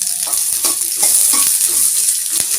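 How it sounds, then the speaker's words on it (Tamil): Onion frying in hot oil with mustard seeds, urad dal and chana dal, a loud steady sizzle with rhythmic stirring scrapes close up, no voices. "பாத்திரம் சூடாயிடுச்சு நம்ம ஒரு ரெண்டு ஸ்பூன் எண்ணெய் விட்டுக்கலாம் கடுகு உளுத்தம் பருப்பு போட்டுக்கலாம்"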